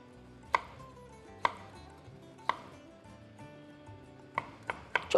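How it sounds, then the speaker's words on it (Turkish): A knife chops a tomato into small pieces on a board, with sharp, close cuts spaced out at first and then coming quicker toward the end, heard alone without talk. "Domatesimiz de küçük küçük doğrayıp o da güzel bir renk ve lezzet katsın."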